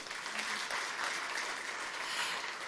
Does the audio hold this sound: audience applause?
yes